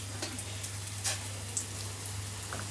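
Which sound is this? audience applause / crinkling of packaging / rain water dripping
rain water dripping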